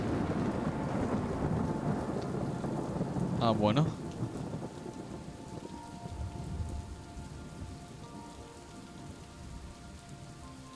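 Steady rain hisses on surfaces in Superliminal while a low thunder rumble rolls underneath; partway through, someone speaks a brief remark over the downpour, then the rain continues, gradually easing in loudness.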